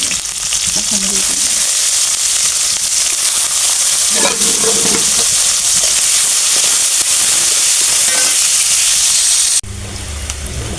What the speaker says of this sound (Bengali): এর মধ্যে কেটে রাখা পেঁয়াজ দিয়ে